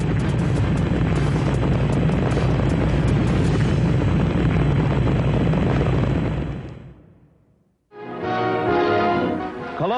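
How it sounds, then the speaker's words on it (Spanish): A rocket lifting off at launch, a loud, sustained roaring rumble that fills the air for several seconds, then fades out before other sound cuts in. "Despegamos. Estamos despegando."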